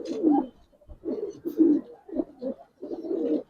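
Silver Giribaz pigeons coo close by in a series of repeated throaty, rolling calls with short pauses between bursts.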